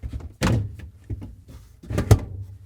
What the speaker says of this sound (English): Now we can install the glass shelves.